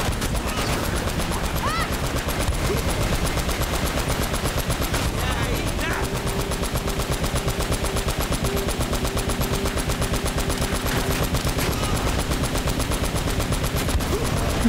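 Sustained rapid automatic gunfire rattles through a firefight in Uncharted: Drake's Fortune, a dense, loud, continuous stream of shots lasting the whole stretch, with voices talking faintly beneath it.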